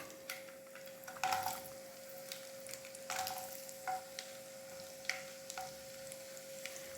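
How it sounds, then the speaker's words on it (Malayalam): Coconut pieces frying in hot coconut oil for a clam roast, a quiet sizzle with intermittent stirring scrapes and clinks of a utensil, fairly soft and close, without speech. "ഇപ്പോൾ എണ്ണ നന്നായിട്ട് ചൂടായിട്ടുണ്ട്. അതിലേക്ക് നമുക്ക് തേങ്ങാക്കൊത്ത് ചേർക്കാം."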